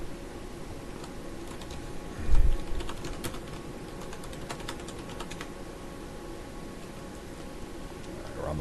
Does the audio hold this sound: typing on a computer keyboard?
yes